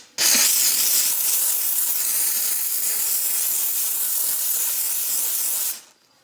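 Steady, loud hiss of a Vapodil steam cleaner blasting vapour onto a greasy oven surface, running continuously for several seconds without pause, then cutting off abruptly near the end.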